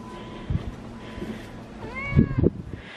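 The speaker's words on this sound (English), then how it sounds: "she just meowed at me" A young cat meows twice at close range in a home, short, rising calls between soft background rustles and faint speech.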